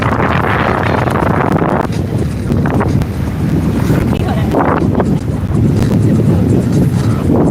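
Racing powerboats, Procat catamarans from a team fleet, roar past offshore at Torquay: a dense, continuous engine roar buffeted by heavy wind noise, with surges as the boats sweep by.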